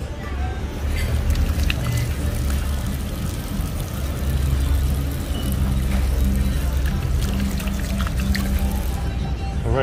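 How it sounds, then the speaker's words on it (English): Water is poured over hands for washing at an outdoor street spot in Merida, Mexico, a steady pouring wash that runs through the clip against busy street noise with occasional voices. "Can you please wash your hands?"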